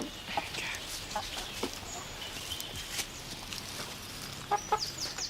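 Chickens give scattered, fairly faint clucks and squawks while being caught in a garden, with soft rustling and footsteps in the background.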